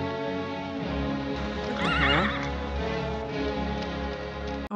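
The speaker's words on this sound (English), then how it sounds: "Look at that horse." A horse whinnies loudly in a 1956 western film set in deep snow, a rising, quavering neigh in the middle of a steady ambient background with faint hoof-like ticks.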